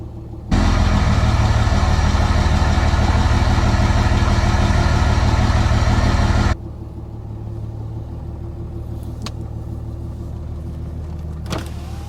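A 2004 Dodge Ram 3500 engine fires up abruptly and roars loud and steady for about six seconds. It then drops to a quieter, even idle rumble, with a couple of faint clicks and no talking.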